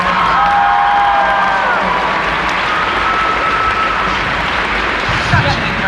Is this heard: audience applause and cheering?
yes